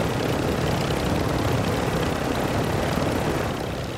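A helicopter in the Call of Duty Warzone video game roars as a steady, loud, dense rotor and engine drone that holds level throughout and eases slightly at the end, with no speech.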